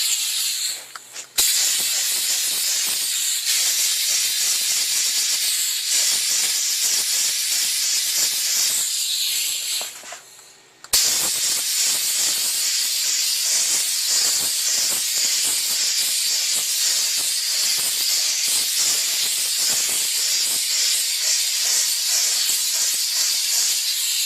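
A steam car wash machine blasts a car seat track with a loud, continuous hiss of steam, which cuts out briefly twice before resuming at full force.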